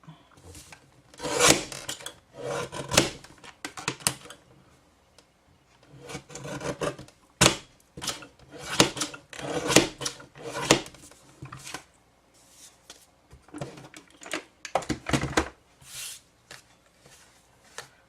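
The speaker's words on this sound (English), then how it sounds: "I'm just gonna trim off this little bit." Scored card paper is trimmed with a cutting tool in uneven runs of close, crisp rasping strokes. The strokes come in several clusters separated by short pauses, and there is no talk.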